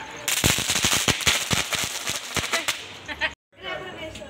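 Diwali firecrackers set off outdoors: a long rapid string of sharp cracks and pops, loud and close, stops abruptly, then another burst follows with people's voices around it.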